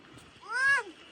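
A single close cat meow, rising then falling in a short, clear, plaintive call.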